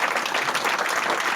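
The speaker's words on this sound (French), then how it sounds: "On s'applaudit" Applause from an audience at a foundation's 20th anniversary celebration, a dense steady wash of clapping throughout the short moment.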